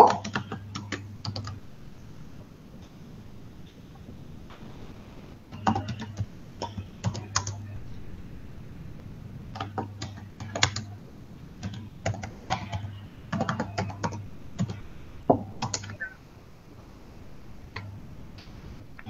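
Typing on a computer keyboard in irregular bursts of close, crisp key clicks separated by short pauses, with a faint background hum and no talking.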